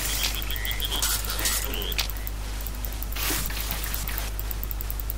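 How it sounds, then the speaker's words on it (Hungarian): Frog croaks in the video game Vikings: Wolves of Midgard, several short croaking calls scattered over a steady ambient hum with drip-like water sounds, no talking. "A béka hangok."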